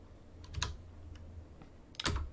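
Sparse keystrokes on a computer keyboard while entering a command in a Linux terminal: a few soft clicks, with two clearer clusters of taps separated by a quiet stretch, fairly close and alone.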